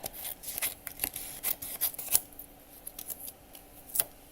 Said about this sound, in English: Let me take a few of these books and cut them out.